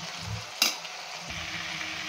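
Half-cooked brinjal mixture stirred in a pan, with a soft steady sizzle of frying and a sharp scrape of the spoon against the metal near the start.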